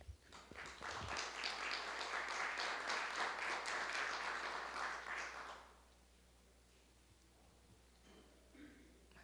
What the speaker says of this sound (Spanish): La recibimos también con un fuerte aplauso